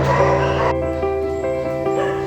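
Dogs at a flooded animal shelter in Thailand, with harmonic barks, yips and whines sounding close and continuous through the whole stretch.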